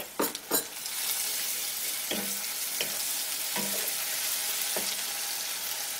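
Ginger garlic paste and softened onions fry in a pan with a loud, steady sizzle, close by, while a utensil clinks and scrapes against the pan several times at irregular intervals.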